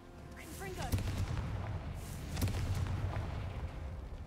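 Booming fire-spell blasts from the Confringo spell in Hogwarts Legacy, two heavy explosive bursts about a second and a half apart over a dense rumbling game soundscape, loud and close.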